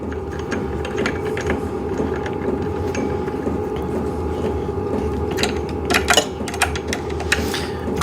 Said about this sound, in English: All right, let's tighten this down.